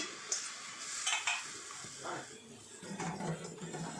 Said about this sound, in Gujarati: તેને હવે આપણે શેકી લેવાની છે ધીમા તાપ ઉપર એકદમ તે મિક્સ કરી લેવાનું